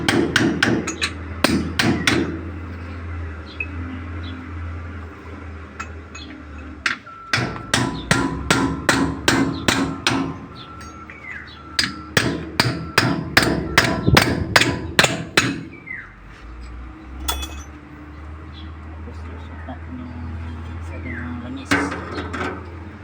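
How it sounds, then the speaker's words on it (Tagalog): A hammer drives a chisel to free the spindle drive from a Howo 371 truck's wheel planetary hub: loud, close metallic strikes in rapid bursts separated by short pauses, with a voice heard between some of the bursts. "Gamitan natin ang sinsil pag mahirap tanggalin."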